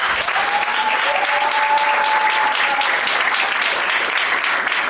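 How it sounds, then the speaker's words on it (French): Wedding guests at a civil marriage ceremony break into loud, dense applause, many hands clapping evenly and close by for the full five seconds, with a brief whoop near the start. "Je vous invite à applaudir s'il vous plaît."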